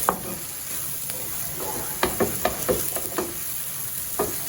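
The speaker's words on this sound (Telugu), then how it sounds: "మీడియం ఫ్లేమ్లో పెట్టి ఫ్రై చేసుకోవాలి ఇలా స్పూన్తో మెదుపుతూ కదుపుతూ ఉంటే" Gongura leaves frying in a pan over a medium flame, with a steady soft sizzle and irregular scraping clicks and taps as a spoon stirs and presses them, close and alone without talk.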